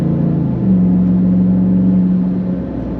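A 2022 Ram 2500 with its 6.4 Hemi V8 gives a deep, steady engine hum with a low droning tone that swells slightly and holds for a few seconds, close and alone.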